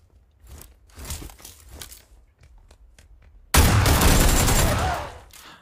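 PUBG gunfire: a run of faint, scattered distant shots, then a sudden loud, close burst of sustained firing that tapers off toward the end.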